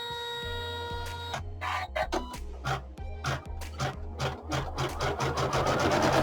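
A domestic embroidery machine stitches an outline on a quilted Halloween haunted village tile, a close, fast, rhythmic mechanical chatter of needle strokes and motor whirr in uneven bursts, building steadily toward the end.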